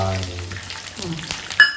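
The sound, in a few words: water added to hot tempering, sizzling in pan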